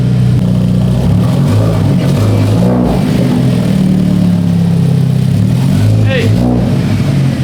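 A Hyundai Genesis Coupe engine drones loudly while driving, its revs rising and falling in steady waves, with a brief spoken word over it.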